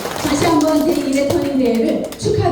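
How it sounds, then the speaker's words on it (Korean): An audience at a local association's dance contest claps for the association president, giving brief, close, dense applause while someone talks over it. "박수 한번 주시길 바라겠습니다"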